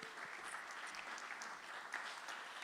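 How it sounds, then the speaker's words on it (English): Applause for a candidate at a Palmerston North mayoral debate: a modest crowd claps steadily, soft and somewhat distant, with a few sharper claps standing out. "Let's give them a round of applause."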